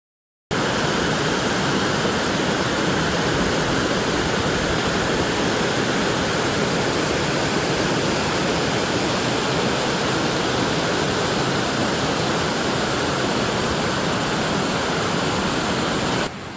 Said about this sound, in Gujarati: કેટલું સુંદર પાણી પડી રહ્યું છે